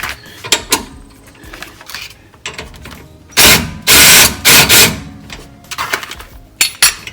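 An impact wrench breaks loose a shock bolt on a 2012 Toyota, firing a few loud, close, hammering bursts in the middle, with quieter metallic clanks and handling noises before and after.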